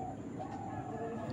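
Pigeons coo softly and steadily in a quiet coop, a low murmuring background of several birds with a faint whistle-like tone drifting through.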